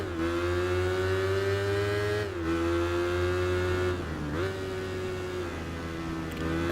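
Honda FTR motorcycle engine in the Tourist Trophy racing game, a loud, steady high-revving whine that holds pitch, dips briefly with gear shifts around two and four seconds, then climbs again, with no talk.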